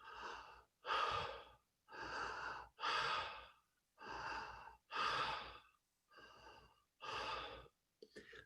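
A person imitates Kussmaul breathing, rhythmic deep breathing with eight slow, heavy breaths, each a loud rushing inhale or exhale separated by brief pauses, close and clear.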